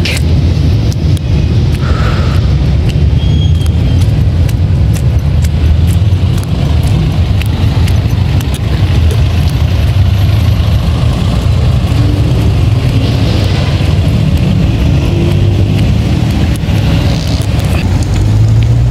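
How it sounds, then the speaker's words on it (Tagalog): Busy street traffic with car engines rumbling and passing close by, a loud continuous low roar with wind buffeting the microphone throughout, heard by a pedestrian walking along the road. "Traffic."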